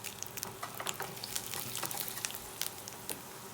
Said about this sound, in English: The oil is hot. Now I'm going to add 3 of the red chili, whole red chili.